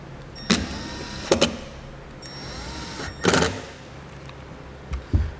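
A powered screwdriver drives two screws back into a tail light on a 2016 Chevrolet, heard as short whirring bursts separated by pauses and faint clicks, close and clear.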